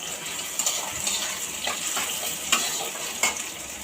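Spices, onion and dried chili fry in hot oil, giving a steady close sizzle broken by a few sharp crackling pops and some stirring.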